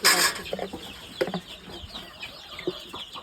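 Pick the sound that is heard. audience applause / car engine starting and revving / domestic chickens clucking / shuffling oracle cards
domestic chickens clucking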